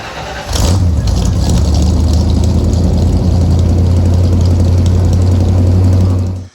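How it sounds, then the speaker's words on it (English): A car engine cranks and catches, then settles into a loud, steady idle with a deep low rumble that continues for several seconds before cutting off. "Let's fire this bad boy up."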